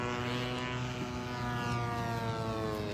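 A Hobbyking V2 model paramotor flies overhead outdoors, its propeller motor making a steady, buzzing drone with strong harmonic tones that hold a constant pitch and loudness.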